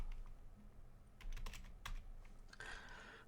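Brief bursts of keystrokes on a computer keyboard, a quick cluster of taps followed by a short run of clicks, close and fairly quiet in a still room.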